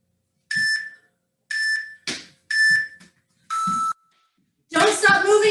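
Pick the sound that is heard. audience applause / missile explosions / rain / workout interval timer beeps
workout interval timer beeps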